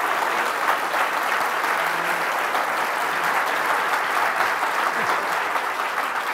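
Sustained applause from a lecture audience at UCLA, a dense, even clatter of many hands clapping that holds steady throughout.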